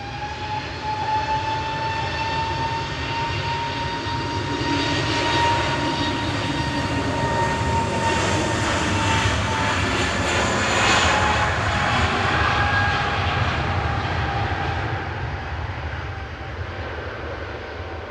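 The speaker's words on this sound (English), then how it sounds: "Scandinavian 542 to Copenhagen going next" SAS Airbus A320neo jet taking off at Manchester Airport for Copenhagen, a loud sustained engine roar with whining tones that swells toward the middle and eases slightly near the end, heard alone.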